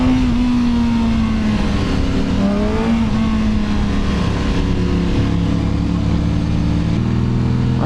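A motorcycle with a straight-pipe exhaust rides on the Mendel pass: a loud, continuous engine drone with slowly shifting pitch and no pauses.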